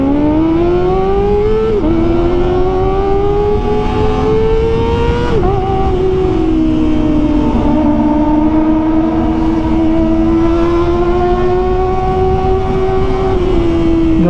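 A Kawasaki ZX25R inline-four sportbike engine screams at high rpm, loud and close, its pitch rising and dipping through several revs and shifts over a sustained run.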